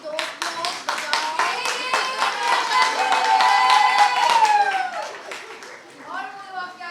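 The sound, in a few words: audience applauding for Priyanka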